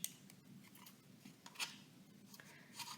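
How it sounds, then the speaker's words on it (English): Scissors snip through paper in a few quiet, scattered cuts, with faint rustling between them and no voices. "And then grab your scissors"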